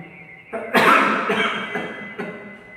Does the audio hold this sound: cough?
yes